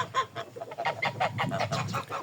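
A gander honks repeatedly in a farm shed, a rapid series of loud, nasal honks close by, with faint low background noise and no talking.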